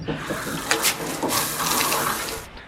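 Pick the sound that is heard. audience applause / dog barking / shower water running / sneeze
shower water running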